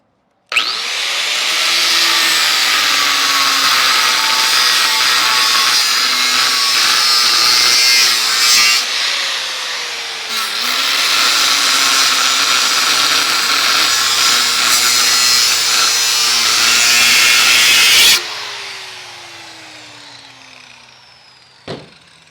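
Power tool cutting into welds on the rear bumper area of a Lexus GX 460 or GX 470, a loud close grinding whine in two long passes broken by a short pause, then stopping abruptly.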